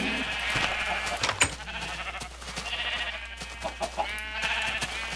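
Several sheep bleats from the video game Minecraft sound in quick succession over a steady electronic background, with short clicks and thumps in between.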